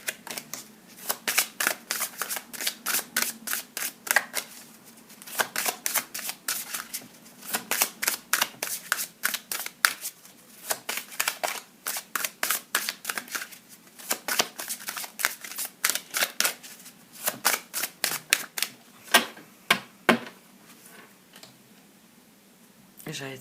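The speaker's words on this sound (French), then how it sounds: "J'allais tirer des cartes" A deck of cards is shuffled over and over, rapid riffling bursts in quick repeated runs, close and crisp, with a voice speaking at times between them.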